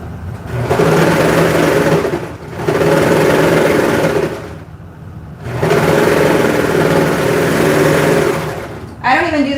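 A 16-needle embroidery machine runs loudly in close bursts, a fast steady mechanical whirring that stops and restarts several times with short pauses between runs.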